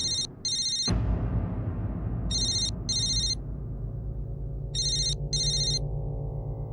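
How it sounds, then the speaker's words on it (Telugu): A telephone rings indoors in repeated double bursts of bright electronic trilling, three pairs spread across the span, loud and close, with a low background hum beneath and no talk. "అదిగో ఫోన్ వచ్చేసింది."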